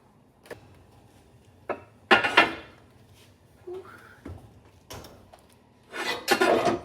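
A cast iron Dutch oven and its lid, preheated in the oven, are lifted out and handled for baking sourdough, giving several short, close metallic clanks and scrapes separated by brief pauses.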